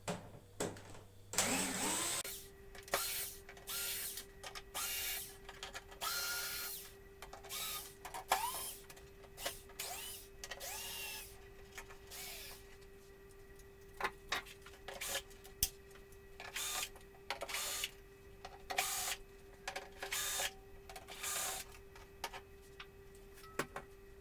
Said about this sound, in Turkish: Şimdi cihazın arka yüzündeki bütün vidaları sökerek cihazı açmaya başlıyorum arkadaşlar.